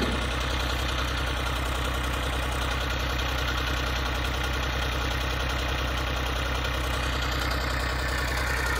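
A dewatering motor pump runs at a worksite, a loud, steady, close-up engine drone with an unbroken low hum that holds the same level throughout.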